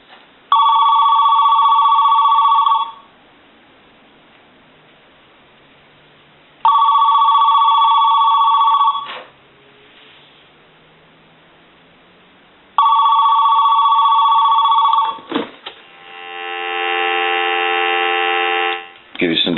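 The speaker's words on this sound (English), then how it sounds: "we'll ring it on high one last time" An AT&T 210 Mickey Mouse telephone rings on its high setting in three loud, bright electronic bursts separated by pauses. A final burst breaks off into a shifting tone as the ringing stops.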